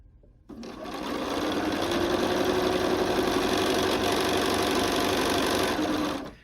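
A sewing machine runs in one continuous steady burst of stitching as sunflower petal pieces for a Ukrainian window hanging are joined, a close, even mechanical whir that starts abruptly and stops just as sharply.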